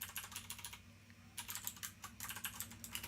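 Rapid computer-keyboard typing in two bursts separated by a short pause, close and clear, the keystrokes clattering steadily over a faint constant hum.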